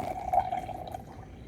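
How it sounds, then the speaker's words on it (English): River water is poured from a sample container into a laboratory filtration jar, a short, close liquid pour that gurgles at the start and fades to a light trickle. "So we will pour our sample into the filtration jar"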